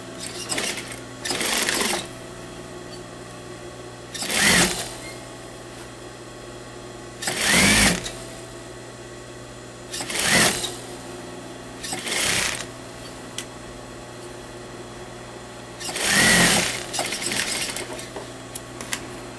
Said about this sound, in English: You sew this one.